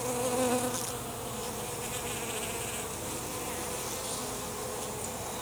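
Honey bees buzz steadily around open hives during an inspection, a dense close drone that stays even and unbroken throughout with no voices.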